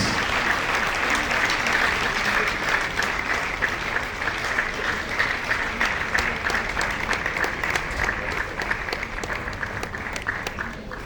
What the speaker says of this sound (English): He deserves our applause, please.